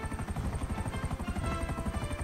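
A helicopter in a naval warship video game mod thumps with rapid, steady rotor chopping and a high turbine whine, close and continuous with no talk over it.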